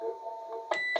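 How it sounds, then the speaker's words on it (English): A Cobra 148GTL-DX CB radio sounds its roger beep, a brief electronic tone cutting in near the end of a steady hum, with a second short burst just after. "The beep, by the way, is standard on this Cobra"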